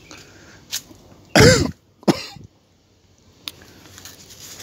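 A single harsh cough bursts out, followed moments later by a shorter second cough, both close and loud against an otherwise quiet outdoor garden background.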